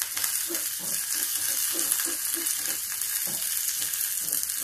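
Mustard seeds, chana dal and curry leaves frying in a little hot oil over a low gas flame, a steady close sizzle with scattered crackles and pops running throughout, no talking.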